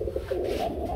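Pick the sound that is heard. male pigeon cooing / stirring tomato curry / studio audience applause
male pigeon cooing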